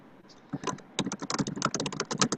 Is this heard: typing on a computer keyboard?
yes